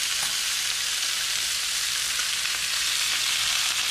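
Thick grouper fillets searing in a hot pan, a steady bright sizzle that stays loud and even throughout, with no voices over it.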